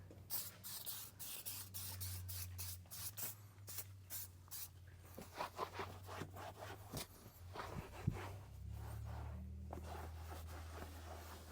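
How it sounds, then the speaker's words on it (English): Rapid pumps of a spray bottle hiss in quick bursts, spraying cleaner onto a Chevrolet Suburban RST car seat, close up, followed by more spaced sprays over a low steady hum. "I spray it completely wet."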